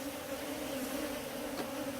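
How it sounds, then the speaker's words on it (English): African honey bees (Apis scutellata) buzzing steadily at a hive during beekeeping training in Nairobi, a continuous faint drone with no talk. "this little bee here, is deciding whether to sting me or not"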